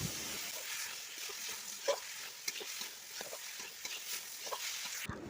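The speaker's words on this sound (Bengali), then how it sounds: "আলু আর মটরগুলো আমি মশলার সাথে ভালো করে নাড়াচাড়া করে" Potatoes and peas stirred with spices in a frying pan, a faint low sizzle with scattered soft scrapes and taps of the spoon, fairly quiet throughout.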